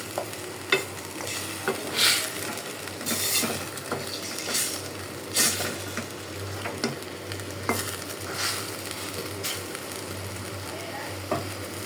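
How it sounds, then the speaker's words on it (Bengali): Pangas fish drops into a hot pan of frying spice paste, producing a steady sizzle with repeated stirring scrapes and clanks from a utensil against the pan, close and continuous, without speech. "মশলাটা কিন্তু কষানি হয়ে গেছে আমি এখন মাছ দিয়ে দেবো"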